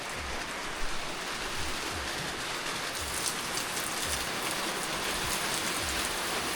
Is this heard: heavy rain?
yes